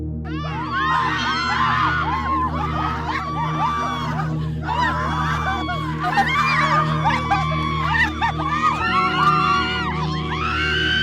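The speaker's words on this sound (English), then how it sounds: "You hear the screams and the cries of the innocent ones" Screams and anguished cries from several people fill a dramatic movie scene, overlapping high wails and shrieks in irregular bursts over a low sustained background tone.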